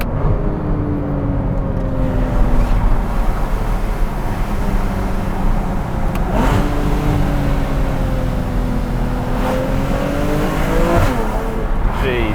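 A Porsche Cayman S engine pulls hard from inside the car, its note climbing steadily through the revs, then dropping sharply at quick upshifts before rising again, loud and continuous.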